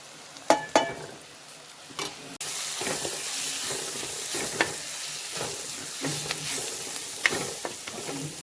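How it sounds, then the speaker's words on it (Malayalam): Chili, coriander and turmeric powders sizzle as they fry in a pan, with steady hiss and repeated sharp scrapes of a spoon stirring, close and fairly loud, no talking. "ഞാൻ ഇതിനകത്തോട്ട് ഒരു കരണ്ടി മുളക് പൊടി, ഒരു കരണ്ടി മല്ലിപ്പൊടി, കുറച്ച് മഞ്ഞൾപ്പൊടിയും കൂടെ ഇട്ട് കൊടുക്കുന്നുണ്ട്."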